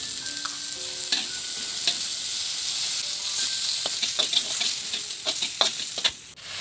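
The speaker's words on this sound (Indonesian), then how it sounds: "Tumis hingga harum, lalu tambahkan cabai merah, cabai hijau. Tambahkan udang." Shrimp with red and green chilies stir-fried in a pan over garlic, shallots and ginger, giving a steady close sizzle with scattered crackles and spatter pops throughout.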